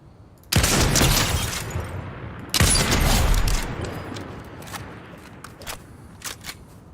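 Two loud gunshot sound effects from a video game, each a sharp crack with a rumbling, echoing tail, about two seconds apart, followed by faint scattered clicks as the reverberation dies away.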